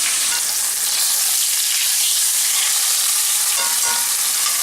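A steak sears in a hot pan with a steady, loud, dense sizzle and crackle that holds without pause, and no voices are heard.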